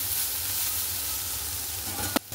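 Pumpkin and bitter gourd pieces frying in oil, a continuous loud hissing sizzle close up, broken near the end by a brief knock and a momentary drop as the pan is disturbed.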